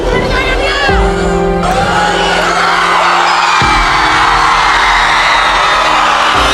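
Large audience at a university cultural fest roaring with shouts, whoops and cheers, a loud dense crowd wash throughout with sustained tones and a sharp bang partway through.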